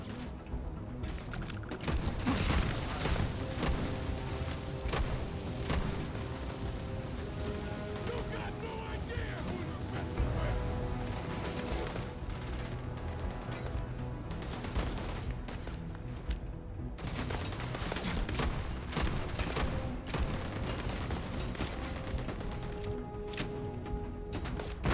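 Grenade blasts and rapid gunfire fill a chaotic firefight in the space game Starfield, with dense, sustained bursts and crashes continuing almost without pause throughout.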